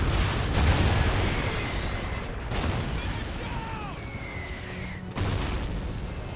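A gasoline canister blows up in Call of Duty: Ghosts, giving broad roaring game noise with a couple of sharp booming bursts and a steady din throughout.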